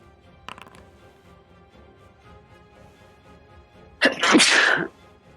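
A single loud sneeze bursts out near the end of a quiet indoor room during a tabletop role-playing game session, preceded by a faint brief sound.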